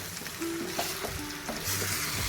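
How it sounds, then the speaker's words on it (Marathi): Masala-marinated country chicken sizzles steadily in a hot pan while being stirred, a close continuous frying hiss with soft scraping, no voices. "आता एक दोन मिनिट चांगलं परतवून घ्यायचं आपल्याला"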